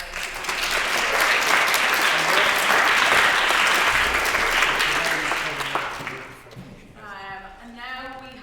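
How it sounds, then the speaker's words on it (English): A debate audience claps loudly and steadily for about six seconds, then the applause fades as a voice begins speaking. "So we'll give one more clap for our"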